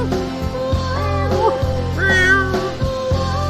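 A cat meows several times in overlapping, drawn-out calls over a steady low hum and background noise, fairly close and clear.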